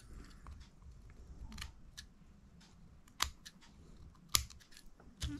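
Scissors trimming excess paper that sticks out past a small display-case frame, a soft series of quiet snips and crisp clicks, with several sharper cuts toward the end, close and faint.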